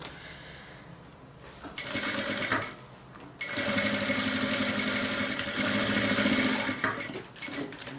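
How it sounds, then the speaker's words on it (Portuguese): Sewing machine stitching around a zippered fabric pouch, bursts of rapid mechanical whirring that stop and restart, the longest run lasting several seconds, close and loud with no one speaking. "só costura, costura, costura, até a costura encontrar aqui onde a gente começou."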